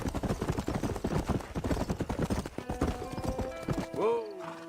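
Rapid rhythmic clip-clop of horse hooves galloping close by, then slowing as a horse whinnies near the end, with a voice briefly heard.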